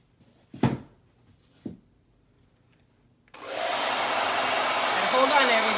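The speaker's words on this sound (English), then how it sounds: "I'm going to use a blow dryer. I'm not going to use heat on the dryer, just the air" A blow dryer set to air only, no heat, runs steadily to dry a layer of paint, switching on after a couple of soft handling knocks and a stretch of quiet, then holding a loud, even rushing whoosh.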